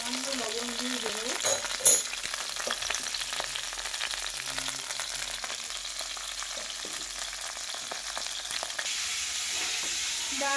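Potato and cauliflower pieces fry in oil with a pinch of salt, a soft continuous sizzle at low level with faint voices in the background.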